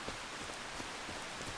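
Steady rain falls in Farming Simulator 25 on a farm during harvest, a soft continuous hiss with scattered droplet patter, fairly faint and heard alone.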